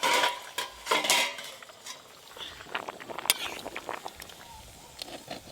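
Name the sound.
stirring foamy rice with a spatula in a pot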